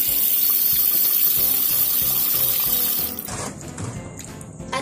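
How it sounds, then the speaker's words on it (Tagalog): Water pours steadily into a basin for hand-washing white laundry, a loud continuous rushing splash that thins and becomes more uneven after about three seconds, with no talking. "Maglagay ng kaunting tubig."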